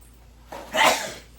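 A single sneeze bursts out after a brief intake of breath, close and fairly loud, then fades quickly.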